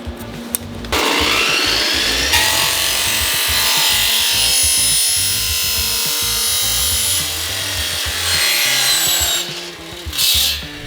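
A PVC gate post is sawn to trim off the excess, giving a loud continuous rasping cut with a fast back-and-forth rhythm that runs almost the whole time, close and alone.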